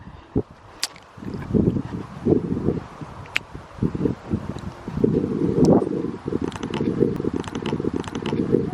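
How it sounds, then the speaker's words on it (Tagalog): Strong wind buffets the microphone in loud, gusty bursts, with rustling and a few sharp knocks between the gusts. "At saka malakas yung hangin"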